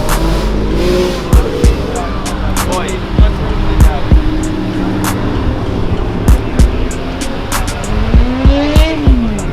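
A Lamborghini Aventador passes at a Dallas Cars and Coffee meet, its loud engine sweeping by close amid steady traffic noise, with sharp clicks and people chatting in the background.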